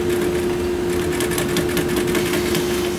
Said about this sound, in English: I'm gonna go sew.